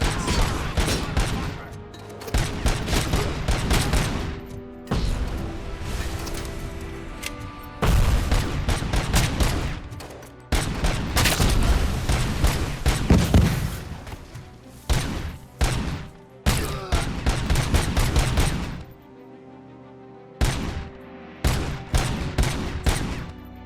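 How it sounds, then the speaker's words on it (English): Rapid bursts of gunfire ring out in the game RoboCop: Rogue City, loud and repeated in clustered volleys with brief gaps and occasional heavier booms between them. "I just keep shooting until I hit something"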